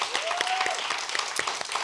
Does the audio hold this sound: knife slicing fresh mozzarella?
no